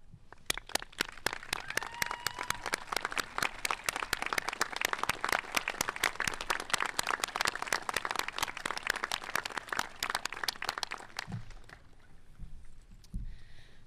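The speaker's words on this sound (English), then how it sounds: "Can we all rise and give a round of applause?" A room rises for a round of applause at a high school graduation ceremony for the class of 2021, steady dense clapping for about eleven seconds before it thins out into a few scattered claps.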